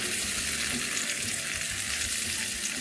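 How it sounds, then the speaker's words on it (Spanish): Tomato and chopped vegetables frying in a pan while cooking a rice dish, a steady, close, continuous sizzle and crackle of hot oil with faint stirring, no voices. "termino así de freír todas las verduras"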